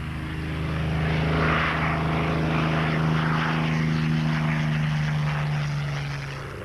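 Hawker Hurricane RAF propeller fighter plane flying, a steady droning piston engine hum with a strong low tone, rising and easing as it passes, loud and alone.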